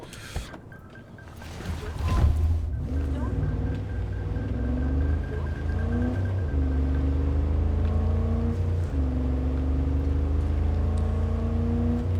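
A car cruises through Night City in Cyberpunk 2077, its engine droning steadily with rising and falling revs as it accelerates through the streets, loud and continuous with no voices.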